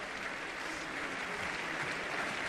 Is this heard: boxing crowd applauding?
yes